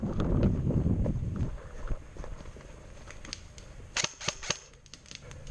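Airsoft guns firing during an outdoor game at Picasso Lake, heard as a quick cluster of sharp pops partway through against steady wind and rustling noise, moderately distant.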